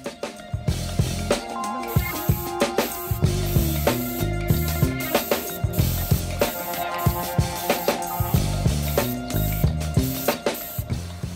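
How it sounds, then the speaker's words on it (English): An HVLP spray gun set to 20 to 30 PSI sprays Cerakote Air Cure ceramic coating onto a turbo or exhaust part, giving loud, steady hissing with repeated clicking pulses throughout and no talking. "Cerakote recommends that you set your HVLP gun's air pressure to 20 to 30 PSI."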